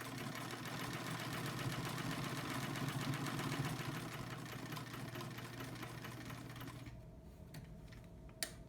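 Motor of an overhauled vintage Brother 190 Flairmatic sewing machine running steadily with a low hum and fast mechanical clatter, close and continuous, then slowing and quieting near the end with a single sharp click.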